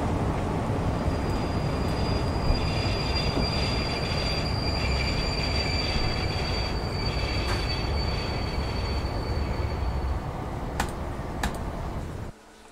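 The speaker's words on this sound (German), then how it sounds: "Ich muss Vollbremse machen." A BR 218 diesel locomotive brakes hard in a train simulator game, with loud rumbling wheels, sustained high squealing of brakes and rails, and a sudden drop near the end as it stops.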